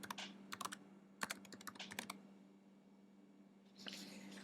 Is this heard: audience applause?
no